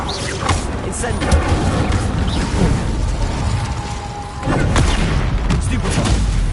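Spell effects from a Harry Potter video game fill a dense, noisy mix as the Incendio fire spell is cast, with booming bursts and crackling impacts that stay loud and continuous throughout.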